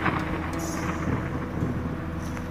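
Thunder rumbles low and continuous beneath a steady wash of falling rain, a dense even storm texture with no distinct claps and no voices.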